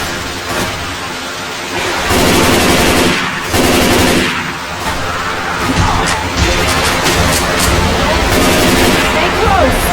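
Dense, continuous automatic gunfire in Left 4 Dead 2 on Hard Rain, loud and overlapping, with voices talking underneath the shooting.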